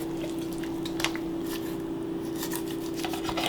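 Raw chicken being cut into smaller pieces, with wet snipping and rubbing crunches close up over a steady low hum.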